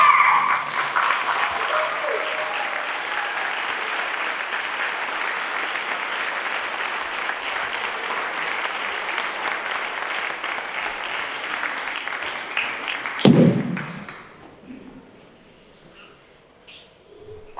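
An audience at a Year 6 school leavers' celebration claps in a long burst of steady applause that fades after about fourteen seconds, and a voice is briefly heard near the end.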